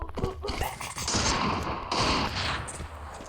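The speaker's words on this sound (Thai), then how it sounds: "การยิงขู่มาเล็กน้อยนะ" Gunfire in the mobile shooter Free Fire, dense bursts of rapid automatic shots and booming blasts that overlap into a loud, continuous barrage.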